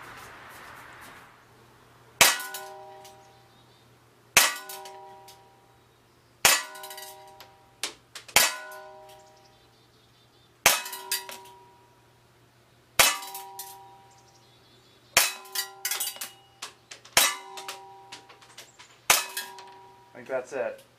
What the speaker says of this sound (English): I'm going to go back and shoot a few more just for fun. Empty the magazine.